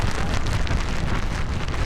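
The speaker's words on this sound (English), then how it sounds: "the light mist has graduated to a light rain" Steady light rain hisses and patters on surfaces while backpacking in New Zealand's volcanic country, dense and constant throughout, with some low wind rumble underneath and no talking.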